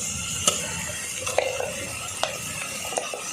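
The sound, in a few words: stirring onion and ground masala in a frying pan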